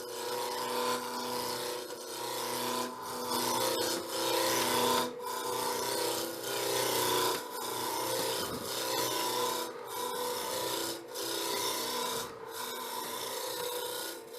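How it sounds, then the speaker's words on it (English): A wood lathe spins a workpiece while a cutting tool roughs it toward a cylinder, cutting toward the corner and back and forth. The result is a steady, close rasping scrape with a constant motor hum beneath it and short pauses between passes. "you notice here I start the cut on the wood rather than on the end"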